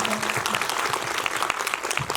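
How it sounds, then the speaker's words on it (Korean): Sustained applause from a film festival audience at the close of a post-screening Q&A at the Busan International Film Festival, steady dense clapping filling the whole stretch with faint voices underneath. "여러분들 큰 박수"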